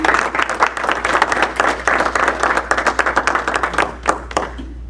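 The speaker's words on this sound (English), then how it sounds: "Please give a round of applause for Rob Matthews." A Rotary Club meeting audience applauds steadily, a dense wash of clapping hands that thins out and fades near the end.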